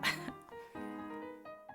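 Worn-out cassette tape from a video game playing a warped song: a sustained, wavering tonal passage with a sharp noisy burst at the start and short accents near the end, heard alone.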